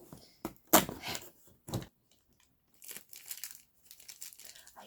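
A small plastic bag from a Marvel Funko Pop advent calendar crinkles up close, with a loud burst of rustling, a few scattered crackles, a brief quiet gap, then softer crinkling.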